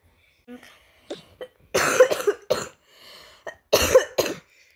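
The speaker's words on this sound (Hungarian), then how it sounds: "már megint nagyon köhögök" Someone coughs repeatedly in harsh bursts, close and loud, with a couple of quieter clearing sounds between fits.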